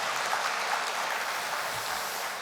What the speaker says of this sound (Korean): 박수로 한번 우리 축하하고 격려합시다